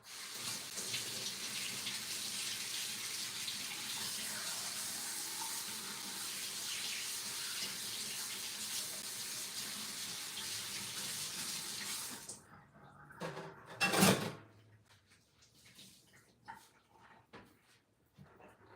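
A kitchen tap runs steadily while someone washes up after making espresso banana pudding. The water flows close and fairly quiet for about twelve seconds, then shuts off, leaving a brief clatter and near silence.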